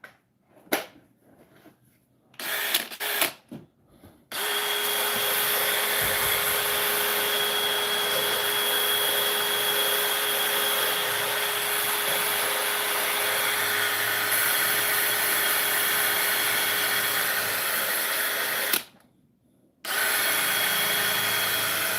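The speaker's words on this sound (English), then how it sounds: "Yes, I know my drill makes weird sounds." A cheap yard-sale power drill whines steadily for about fifteen seconds with a rough, buzzing running tone, after a few brief starts and clatters, then cuts out and restarts briefly near the end.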